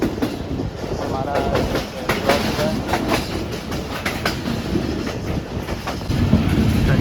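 Pak Business Express passenger train running past Tando Adam railway station, a loud, close, continuous roar with clickety-clack wheel rhythm throughout, heard from aboard.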